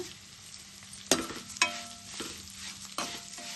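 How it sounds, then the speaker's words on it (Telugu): Flattened rice (poha) fries in two spoons of oil in a kadai over a medium flame: a quiet, low sizzle broken by three or four distinct metal spatula clanks against the pan, close up, without speech. "కడాయి పెట్టుకొని 2 స్పూన్లు ఆయిల్ వేసుకొని ఇప్పుడు అటుకులు వేపుకుందాము"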